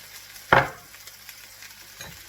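Onion, sun-dried tomato, garlic and mushrooms sizzle in a greased pan, a steady close hiss with one sharp stir-clatter near the start and a softer scrape later.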